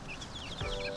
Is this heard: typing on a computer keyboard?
no